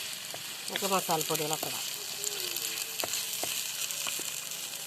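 Curry leaves added to hot oil for a chicken parts gravy, a close sizzle and crackle with a brief clatter, while someone talks over it.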